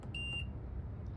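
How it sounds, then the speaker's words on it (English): Two or three short, high electronic beeps from a Rheem water heater's control panel sound in quick succession, fairly quiet, over a low background hum. "Sorry about the beeps."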